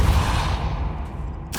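Depulso spell cast in the Hogwarts Legacy video game, a loud booming blast that opens at full force and fades over a second and a half into a rumbling whoosh, ending with a brief sharp hiss.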